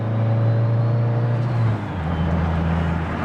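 A car engine drones steadily with a low hum, then its pitch shifts as the boost comes in, with a faint whooshing hiss on top.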